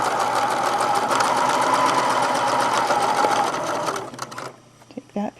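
A sewing machine stitches a gathered fabric seam, running in a fast, steady buzz for about four seconds before stopping, followed by a few faint handling sounds.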